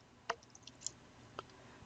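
A single faint, sharp mouse click on a computer during SQL Server setup on an Azure virtual machine, followed by a couple of softer ticks in a quiet room.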